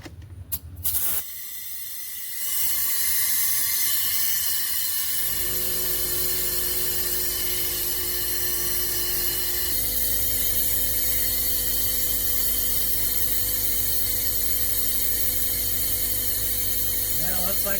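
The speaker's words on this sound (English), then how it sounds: "Alright, we're going to vacuum this sucker down." Vacuum pump evacuating the AC system of a 1991 Buick LeSabre during an R-12 to R-134a conversion, a steady loud hissing drone with a low hum that starts after a brief quiet lead-in and runs on unbroken.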